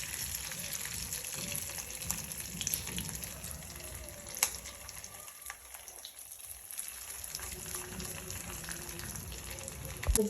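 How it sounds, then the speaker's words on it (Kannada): Curry leaves dropped into hot oil while cooking tomato pickle give a steady, close sizzle and hiss that continues evenly throughout. "ನಾನೀಗ ಅದಕ್ಕೆ ಕರಿಬೇವು ಹಾಕ್ತಾ ಇದ್ದೀನಿ."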